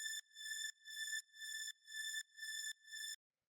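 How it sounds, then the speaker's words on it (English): A simple deep house style synth string plays a repeating pattern of six bright, sustained chord stabs with short gaps, clean and clear with no voices over it. "It's a pretty straightforward kind of like deep house style string."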